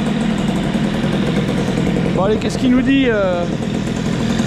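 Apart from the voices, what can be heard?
small scooter engine with Airsal CPI 70 kit running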